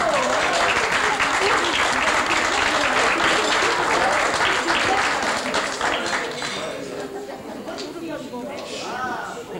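Loud, dense audience applause swells at first, then thins out and fades over several seconds while chatter and voices rise underneath.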